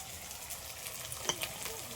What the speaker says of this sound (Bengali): এবার মশলাগুলো সব একসাথে একটু ভালো করে কষিয়ে নেব